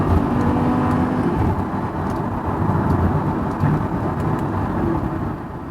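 A Lamborghini Gallardo LP560-4 engine drones steadily while driving, a continuous low, rumbling roar with road and wind noise that stays fairly constant and close throughout.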